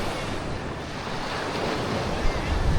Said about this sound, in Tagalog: Ganda ng dagat, oh. Maalon kasi dito